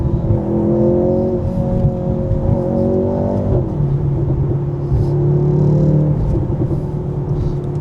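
Engine of a Mercedes-AMG C43 on a night drive, a steady loud droning rumble with rising harmonic tones that climb under throttle, drop back, then build again, heard from inside the car.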